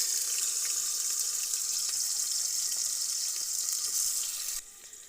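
Onions frying in hot oil for a meat curry, a steady, bright sizzling hiss that holds evenly and then drops off abruptly near the end, with no talking.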